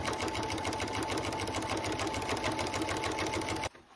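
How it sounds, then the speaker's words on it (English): A sewing machine stitches a harvest apron strap in one steady, continuous run, close and loud, then stops abruptly just before the end. "So I'm just gonna pin this along and sew a nice straight line."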